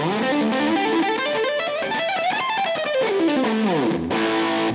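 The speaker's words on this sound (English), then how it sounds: "if I turn the tone on full, you'll really hear the kind of the ice-picky nature of this SG" A bright, cutting electric guitar, an SG with the tone control full up, plays a melodic run of notes alone, clear and close, with a sharp ice-picky treble edge and a slight effect shimmer.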